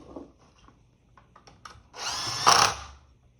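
A power tool whirs briefly while a bolt is tightened on the stator side of a motorcycle engine, after some light clicking and handling noises.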